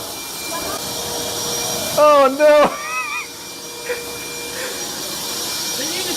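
A vacuum cleaner runs with a steady, whooshing drone throughout while a voice cries out briefly over it.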